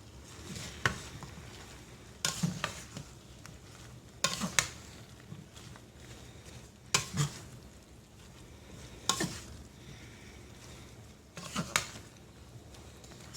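Broccoli cooking in a pan with a soft, continuous sizzle, broken by periodic scraping stir strokes about every two seconds, close and moderately quiet, with no speech.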